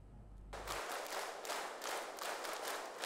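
Lively applause from a crowd at a school opening ceremony, starting abruptly after a brief low rumble and continuing as dense, steady clapping with rolling swells throughout.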